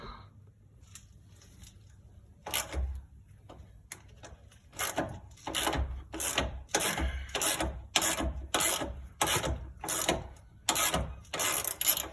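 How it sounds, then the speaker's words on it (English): Ratchet wrench clicking in a steady rhythm while the top bolt of a Ford Falcon shock absorber is undone, close and fairly loud, with quieter scraping and handling noises before the cranking begins. "So we've got to remove the top bolt completely first, so we'll do that."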